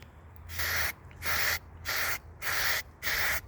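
Five short bursts of hissing spray paint, evenly spaced, each lasting about half a second, over a faint low hum.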